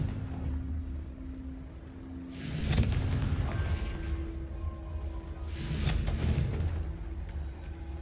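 Confringo fire spell blasts in Hogwarts Legacy: two heavy, booming bursts a few seconds apart, each a rumbling explosion over a low, steady hum.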